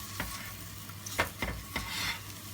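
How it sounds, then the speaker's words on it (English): Sweet potatoes and courgettes stirred in a sizzling pan for a curry, a few soft scraping strokes over a steady low frying hiss, close and fairly quiet with no talk. "sweet potatoes and the courgettes. Give them all a little stir."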